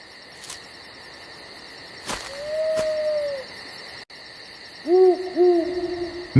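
An owl in an animated cartoon forest hoots in a few clear, sustained calls, with a soft insect-like background hum and brief sharp effects in between.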